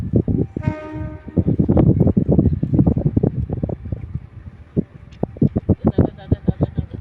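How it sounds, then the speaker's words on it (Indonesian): A train rolls past on an Indonesian line: a brief horn blast, then a loud, close rumble and rhythmic wheel clatter over the rails that carries on under voices talking throughout. "Kereta apa ini"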